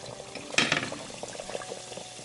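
Oil bubbling and sizzling as Mickey-shaped beignets fry, a burst of crackling that settles into a lighter, steady fizz.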